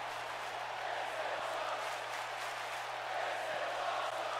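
A wrestling arena crowd at a Kurt Angle versus Tyler Bate match makes a steady, dense roar of massed voices, chanting blended into a continuous wash of noise with a faint low hum beneath.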